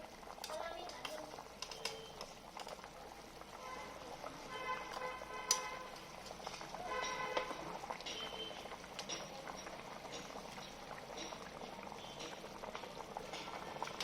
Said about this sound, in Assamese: এয়া চাওক, তৰকাৰী খুব ধুনীয়াকৈ উতলি গ'ল